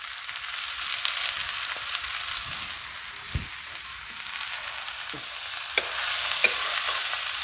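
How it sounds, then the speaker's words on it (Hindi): Bitter gourd bhujia being stirred in a pan, a steady high sizzle with occasional scraping knocks of the spoon against the metal, close and continuous with no talking. "अब इसमें हम अच्छे से मिला लेंगे।"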